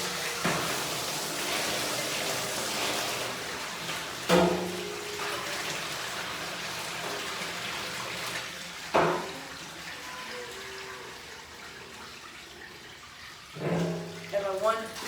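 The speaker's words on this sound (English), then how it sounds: "now we're gonna get some hot water and then just put a little hot water in these buckets" Hot water pours and splashes into calf feeding buckets on a farm, a steady watery flow with a few sharper sloshes and clanks, while a person talks intermittently.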